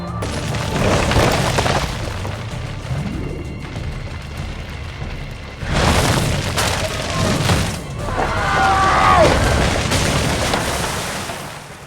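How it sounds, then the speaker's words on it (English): Firecrackers go off in an Assassin's Creed 2 cutscene, several heavy booming blasts spread across the scene with rumbling tails and a whistling streak between them, loud and close. "Probably just kids with firecrackers."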